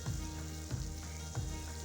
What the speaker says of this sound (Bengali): ভালোভাবে নাড়িয়ে ভেজে নেব সবজিগুলো